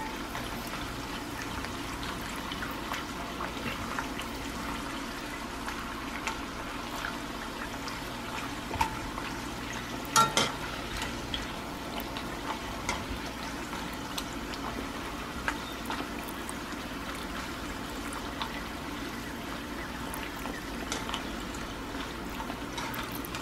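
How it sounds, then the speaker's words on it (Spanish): Dried chiles fry in oil for salsa macha, giving a faint, steady crackle and sizzle close by, with a few sharper pops and clinks partway through. "Así que se dore bien, que se fría bien."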